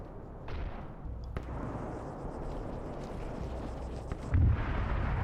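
Hydra anti-aircraft guns firing in a Warhammer 40k video game: a dense, continuous barrage of rumbling booms, with a sharp crack early on and a heavier thump near the end. No talking.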